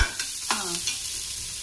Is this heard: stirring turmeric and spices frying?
yes